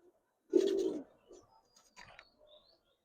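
Giribaz colouring highflyer pigeons give one strong, close coo followed by a few softer, shorter murmurs in an otherwise quiet space.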